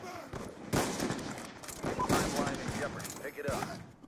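Gunfire from the shooter Call of Duty: Black Ops 2, a quick string of loud blasts and rattling shots through the clip while a player talks over it.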